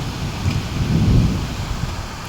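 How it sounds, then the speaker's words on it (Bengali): Thunder rumbles through steady rain in a nighttime storm, a low swelling roll peaking midway over a constant wash of falling water, fairly close and loud with no voices. "আকাশে প্রচুর বজ্রপাত হইতেছে"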